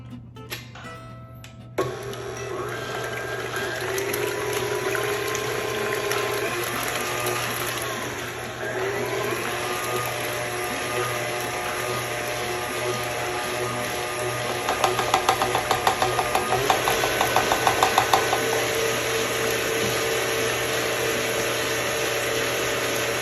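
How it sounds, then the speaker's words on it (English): Heavy cream whisked with an electric mixer, a steady loud motor whir running close for over twenty seconds, with a rattling patch of beater clicks against the bowl midway and no talk. "Alright, so now I'm gonna pour in my heavy cream here, and we're gonna go ahead and whisk that together."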